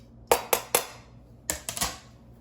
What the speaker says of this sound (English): Next up, I'm going to slide in the leftover meat.